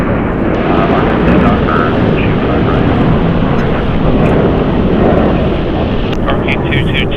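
A Spirit Boeing 737-8 airliner, 12 years old, taking off from runway 25 right at LAX: a loud, continuous jet roar with wind noise, while an air traffic control radio voice speaks over it.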